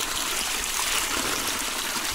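Water runs steadily from an old wooden gutter in a continuous bright, splashing trickle, close and even, with no voices.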